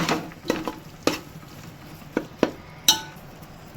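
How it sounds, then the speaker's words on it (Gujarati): A spoon stirs a whole-onion curry with turmeric and Kashmiri chilli powder in a pan, giving a faint sizzle under about half a dozen sharp metallic scrapes and clinks, close and irregular. "નાખીને આ રીતના હલાઈ નાખવાનું એકદમ"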